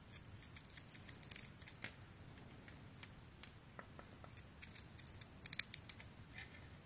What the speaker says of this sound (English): Just cut as straight as you can, basically, going all the way around.